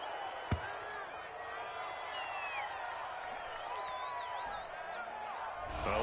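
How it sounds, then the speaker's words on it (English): A stadium crowd in a football video game murmurs and swells with scattered whistles and a sharp thump, a steady roar of disapproval at a penalty call, with commentary voices under it. "this crowd does not like that call"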